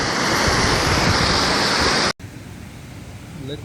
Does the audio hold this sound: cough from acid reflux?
no